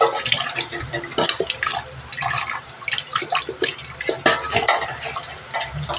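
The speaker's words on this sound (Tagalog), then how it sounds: "lalagay natin sa strainer para tumulo yung excess, liquid" Excess water drains and drips from crab and squash with Baguio beans sitting in a strainer, a steady near splashing trickle with scattered drips running throughout.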